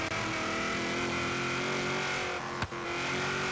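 Supercharged classic Z28 Camaro engine revving hard in Forza Horizon 3, a loud steady harmonic drone with supercharger whine, holding high RPM with a brief sharp crack near the end.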